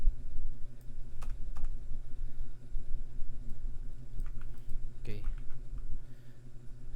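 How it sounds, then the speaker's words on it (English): Typing on a computer keyboard during a Java programming lesson: a run of close, crisp key clicks in uneven bursts, with a louder clack near the end, over a steady low background hum. "So we're going to type in this one is hello world."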